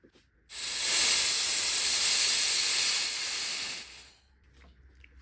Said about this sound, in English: Let's let the air out and see what we got.